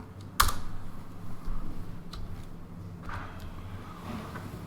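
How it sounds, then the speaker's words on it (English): Keystrokes on a computer keyboard as a zero-span command is entered for a circuit simulation: one sharp, close click followed by a few faint, sparse taps over a low steady hum. "I will type in zero span and execute it."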